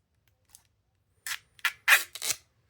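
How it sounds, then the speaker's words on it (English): Protective plastic film is peeled off the screen of a Motorola A630 phone, heard as a faint tap and then four short, close crinkly rips in quick succession. "Oh, almost forgot to peel the plastic on the screen."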